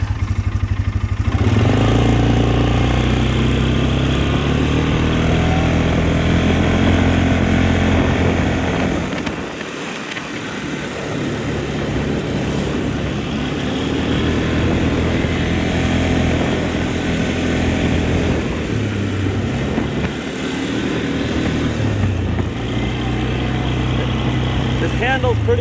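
A 2013 Polaris Sportsman 400 ATV engine runs steadily through a test ride in brush, a loud close droning hum that dips briefly near the middle, with someone talking over it.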